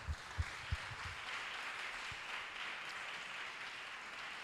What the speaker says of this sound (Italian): che accogliamo con un applauso